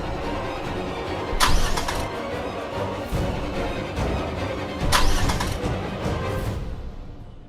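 A broken-down car's engine sputters and fails after the car is pulled over, with mechanical rumbling and two sharp bursts of clatter as it struggles, the engine noise fading out at the end.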